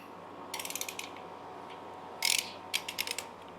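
A torque wrench ratchets on the rocker box bolts of a 2004 Harley-Davidson Softail in a shop. Several short bursts of rapid clicking sit over a steady background hum, fairly faint and without speech.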